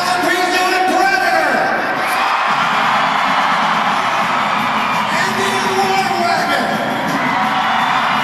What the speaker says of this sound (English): Crowd applause going to Alan Pezo, breaking up the sweep